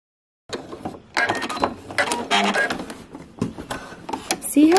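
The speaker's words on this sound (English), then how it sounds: "I can do an optional top stitching about an eighth inch away from the seam" A sewing machine runs in several bursts, top stitching a seam on a round zip bag, with short pauses between runs and a brief higher whir near the end, close and moderately loud.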